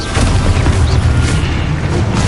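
A spell explosion in the video game Hogwarts Legacy, a loud, dense burst of booming blast noise with a heavy low rumble that holds steady and unbroken for a couple of seconds, with no voices.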